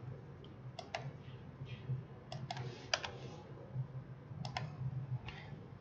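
Light keyboard typing and computer clicks at a desk, a few short clustered bursts of keystrokes and clicks spread across the moment, close and quiet over a faint low room hum.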